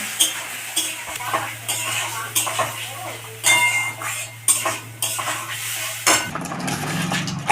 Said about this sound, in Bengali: হলুদ গুঁড়ো, টমেটো কুচি, তার মশলাটাকে সুন্দর করে কষে নেব